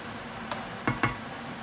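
Mixed fish and prawns with spices and parsley cooking in a pan, a soft steady sizzle under a few quick scraping stirs or utensil clicks, no voices.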